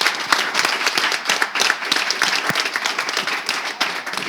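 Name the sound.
audience applause and cheering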